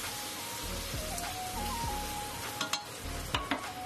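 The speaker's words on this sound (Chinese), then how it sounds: "再下入青红花椒，开始翻炒，让这些调味料融合在一起，" Doubanjiang, ginger, garlic and green and red Sichuan peppercorns stir-fried in a wok, a dense continuous sizzle with spatula scrapes and several sharp clanks toward the end, close and alone.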